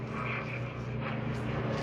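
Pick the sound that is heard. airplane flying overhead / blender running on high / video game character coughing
airplane flying overhead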